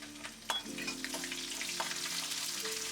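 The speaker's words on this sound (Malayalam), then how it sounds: "15 അല്ലി വെളുത്തുള്ളിയാണ് ഞാൻ എടുത്തിരിക്കുന്നത് അച്ചാറിന്. അതൊന്ന് നല്ല വയന്ന് വരട്ട്." Garlic cloves sizzle steadily in hot oil for mango pickle, a dense frying hiss with a few sharper pops and spits, close and fairly loud with no voices.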